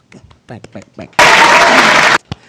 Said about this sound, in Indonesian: Tepuk tangan untuk Puspa